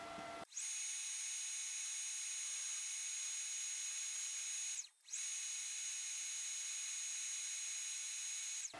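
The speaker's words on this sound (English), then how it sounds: "Let's drill and tap for the tangs." A steady high-pitched machine whine runs almost continuously, stopping briefly once before resuming, as metal is drilled and tapped.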